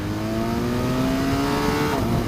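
A 2018 BMW R1200 RS motorcycle engine drones loudly and steadily while riding, then near the end a quick throttle blip flares the revs as it auto-blips down to second gear.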